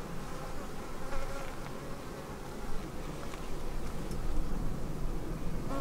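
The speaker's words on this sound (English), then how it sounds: "There's a lot of bees in here, but there's no queen, I don't think." Honey bees in a busy, queenless hive buzz in a dense, steady drone heard up close, with no voices over it.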